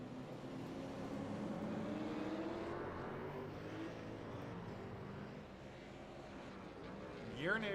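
Super late model race cars on the Charlotte road course drone loudly and continuously from a distance, engine pitch sweeping up and down as they move through the corners, under a race commentator talking.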